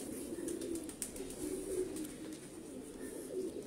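A pigeon coos softly in low, repeated murmurs against a faint, steady background hiss; no one talks.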